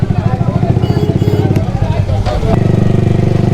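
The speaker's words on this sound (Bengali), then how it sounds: "তাহসানের বউ সামনের বাইকে আর পিছনে আমার বউ" A Yamaha R15 V3 motorcycle engine throbs with a rapid, pulsing rhythm nearby while riding, steady throughout, with a faint voice briefly under the noise.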